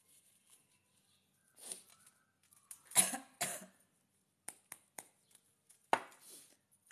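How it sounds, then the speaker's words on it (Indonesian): A few harsh coughs come out in short bursts, separated by quiet gaps and some small clicks and taps. "Batuk gua."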